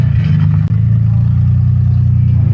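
A car with a swapped Intech engine running and driving, a loud, close, steady low engine drone with a throbbing rumble and one brief dip in level.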